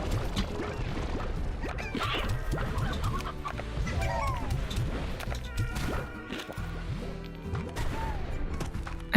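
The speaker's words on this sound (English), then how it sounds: "now we feed some chicken." Chickens cluck repeatedly while being fed in the Slime Rancher game, mixed with busy game sounds and clattering effects throughout.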